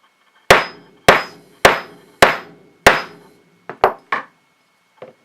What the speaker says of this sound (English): And you would hit this rod.